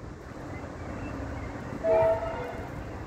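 A Doodlebug rail motor train passes Hastings Station, Victoria, in the rain, its horn sounding one short loud blast midway over a steady rumble and the hiss of rainfall.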